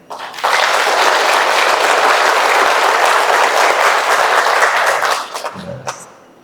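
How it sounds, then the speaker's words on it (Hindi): A seated audience at a meditation session for self-management claps loudly and steadily for about five seconds, dense and close, then the applause trails off into quiet. "एक बार जोर से ताली बजाएं।"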